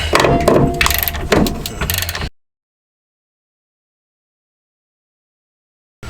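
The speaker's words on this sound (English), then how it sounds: "And then took my ratchet up here to loosen it up." Ratchet loosening a rear sway bar link on a VW Golf GTI, a close burst of rapid clicking and metallic rattling for about two seconds, followed by silence, then a brief return of sound at the very end.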